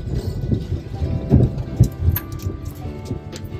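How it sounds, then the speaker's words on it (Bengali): Rain driven by gusty wind during Cyclone Remal, heard on a drive, gives a dense, rough wash of sound with low rumbling gusts that swell and fade. "একবার করে একটা ঝোড়ো হাওয়ার সাথে বৃষ্টি আসে, আবার চলে যায়"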